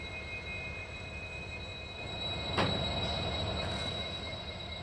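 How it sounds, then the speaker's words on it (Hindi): A train pulls out of Sakleshpur station, a low rumble with steady tonal hums and one sharp burst of noise partway through, with no talk. "हमारे ट्रेन का डिपार्चर हो चुका है सकलेशपुर से।"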